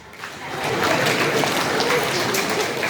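Audience applause at a public speech honouring a community benefactor, a broad steady clapping from a crowd that swells in and holds at fairly loud level for a few seconds.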